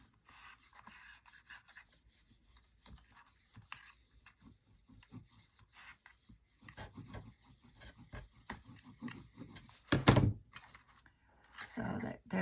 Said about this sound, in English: I'm just going to use my little bone folder and push down on the bottom and really get that